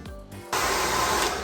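A hair dryer switches on abruptly and runs with a steady, loud, broadband whoosh, close to the listener.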